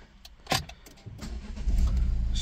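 Keys rattle and click in the ignition, then a Renault 1.5 dCi diesel engine with an injection fault cranks and catches, settling into a loud, steady idle close by.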